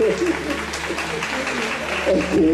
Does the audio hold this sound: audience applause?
yes